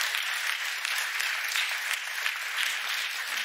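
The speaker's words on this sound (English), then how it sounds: "A round of applause." A live audience at a panel discussion event applauds, giving a steady, dense wash of many hands clapping that stays even and sustained throughout, with no voices standing out.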